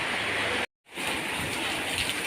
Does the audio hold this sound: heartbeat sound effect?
no